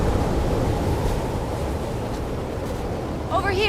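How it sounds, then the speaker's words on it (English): Strong wind gusts roar steadily through a stormy outdoor scene in The Last of Us Part II, a constant broad rush with a brief tonal whistle near the end. "It's pretty windy."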